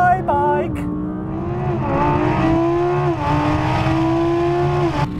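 Audi drag-racing off the line against a Ducati motorbike, its engine note climbing through steady revving pitch sweeps with brief dips at gear changes, loud and close throughout while a person talks over it.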